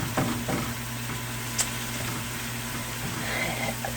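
Pork and mushroom stuffing sizzles steadily in a pan with a few stirring scrapes near the start, a constant moderate frying hiss without talk.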